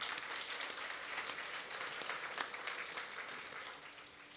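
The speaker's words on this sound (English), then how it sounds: "let's give them a round of applause again" An audience at a Carnatic music arangetram breaks into sustained applause, a dense wash of many hands clapping at moderate distance that holds steady and tapers slightly toward the end.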